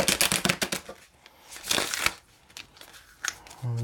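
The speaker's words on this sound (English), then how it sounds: "Spirit says to shuffle one more time." A deck of tarot cards is shuffled during a reading, producing quick, close riffling and crisp papery flutters in a few bursts with short pauses between them.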